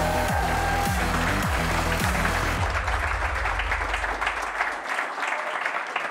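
Loud crowd applause fills the room throughout, with bass-heavy music beats pulsing underneath at first before fading away.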